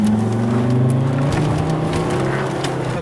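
A Volvo V70's five-cylinder diesel engine pulls under acceleration, a steady near drone whose low tones climb gradually in pitch for about three seconds, with no talking.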